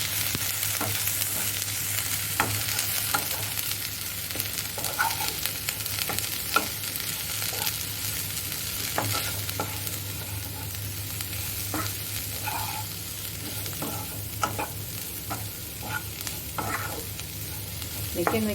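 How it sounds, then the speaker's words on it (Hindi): Beans fry in a pan with a constant sizzle, while a spoon stirs and scrapes through them in frequent irregular clicks and knocks over a long stretch. "देखिए मिक्स हो गया अच्छे से"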